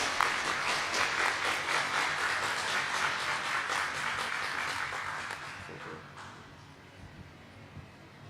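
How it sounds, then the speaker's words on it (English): An audience at a CTF competition opening ceremony gives a round of applause, a broad wash of clapping that holds for several seconds and then fades to a few scattered claps. "Round of applause"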